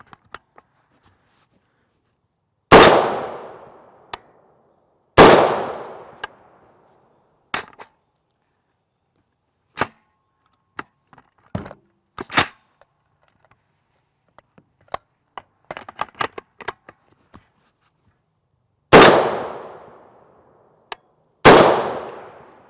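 Rifle shots from a 300 Winchester Magnum firing Prvi Partizan 145gr FMJ rounds: four loud, sharp reports with ringing decays, two close together early and two near the end, separated by quieter clicks and handling noises of the action.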